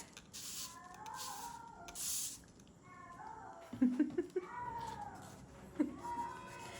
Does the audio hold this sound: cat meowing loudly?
yes